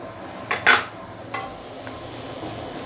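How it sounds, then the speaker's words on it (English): Chopped chili padi and garlic go into a hot pan, with a few sharp metallic clinks and scrapes of a utensil against the pan, then a soft, steady background hiss. No one speaks. "I'm going to add in a little bit of this is the chopped chili padi and also garlic."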